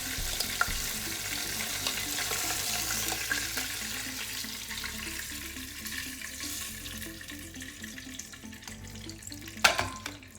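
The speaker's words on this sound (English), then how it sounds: "your roast in there to start searing the sides." A pot roast sears on the saute setting of a pressure cooker, giving a continuous close sizzle and crackle. Faint clinks and scrapes come as it is turned with a fork, and one sharper knock is heard near the end.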